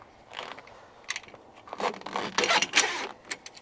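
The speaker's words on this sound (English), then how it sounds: "just stretch the two halves around so you can get your zipper locked into place" A heavy-duty zipper on a Rogue Powersports bug screen is worked closed and locked into place, giving several short, rasping zips and crinkly fabric rustles up close.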